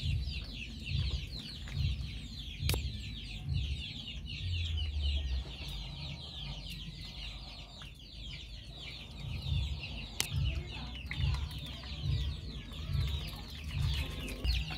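A Darag rooster and hens cluck steadily nearby in a backyard coop, soft repeated clucks broken by a few sharp calls over a rustling outdoor background.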